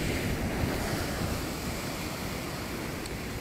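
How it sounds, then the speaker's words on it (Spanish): Rough sea surf with a strong swell crashes and roars in a dense, continuous wash, with wind buffeting the microphone. "dicen que está picado el mar, fuerte la marea"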